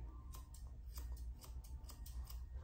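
Scissors snip repeatedly at the long foot hair of a Yorkshire Terrier on a grooming table, trimming past the paw pads in quick, close, faint clicks over a steady low hum.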